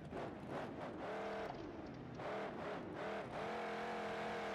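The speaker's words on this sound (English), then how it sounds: "I don't know if I like that engine noise, though." Car engine in the video game BeamNG.drive during a freestyle event, droning and revving up and down in repeated surges with brief lifts between pulls, fairly quiet with no talk.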